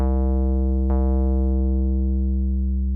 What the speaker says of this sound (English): So we use the sub-oscillator.